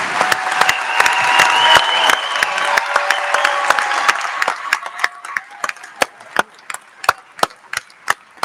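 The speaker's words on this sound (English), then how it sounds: "Let's give our graduates another round of applause" An audience at a Pierpont Community & Technical College graduation applauds its graduates with dense clapping that thins out into a few scattered claps, loud and close.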